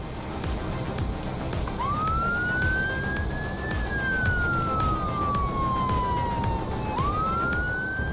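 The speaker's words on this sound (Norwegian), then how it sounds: "og det er sirene" An emergency vehicle's siren with blue lights, sounding one long wail that rises, glides slowly down, then climbs again over steady road noise, loud and close, with no voices.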